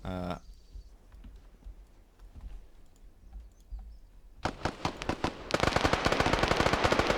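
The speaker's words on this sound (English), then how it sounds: "That MG on the right flank, get ready to have that sucker start singing" Machine gun fire during a raw team training exercise on a flanking position, opening with scattered distant shots over a low rumble, then building into loud rapid bursts and sustained, dense automatic fire near the end.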